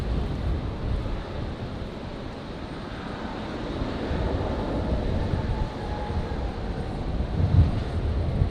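An airliner taking off from runway 19 right at Brisbane, a steady broad engine roar heard from a distance, holding level and swelling slightly as it goes, with no voices.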